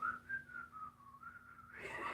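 Someone whistles a wavering melodic tune alone for about two seconds, fairly close and steady, with a brief breathy burst at the end.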